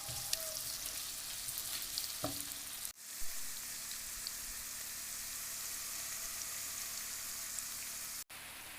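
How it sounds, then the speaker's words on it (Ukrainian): Steady soft sizzling of onions frying in butter in a pan, continuous and close, with a couple of brief clicks and a sharp cutoff near the end. "Обсмажуємо цибулю на маслі до прозорості."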